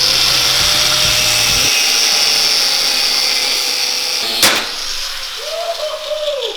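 Angle grinder cutting through a car's coil suspension spring, a loud continuous high-pitched whine and grinding screech close by, with a lower motor hum that drops out partway and a sharp metallic hit near the end.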